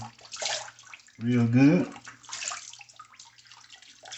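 Warm water splashes in a sink as a face is wetted before shaving, a few soft sloshes mixed with someone talking briefly in the middle.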